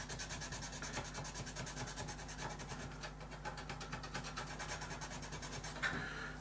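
Close, steady back-and-forth sanding grinds down excess material toward a flat surface, a rhythmic rasping stroke repeating evenly throughout with no voices.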